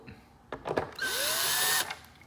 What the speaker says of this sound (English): I'm gonna grab the drill and we'll unscrew that